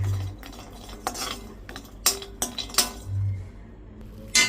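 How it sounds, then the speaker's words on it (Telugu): Dry coconut is stirred and roasted in a pan, heard as a handful of sharp metallic scrapes and clinks of a spoon against the pan, close and separated by brief pauses. "ఈ ఎండు కొబ్బరిని కూడా మంచిగా ఇట్లా వేయించుకోవాలి"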